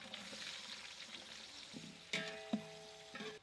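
Chopped onions hit a hot pan and fry with a steady, soft sizzle, joined by a couple of sharp clanks and stirring knocks near the end, with no talk.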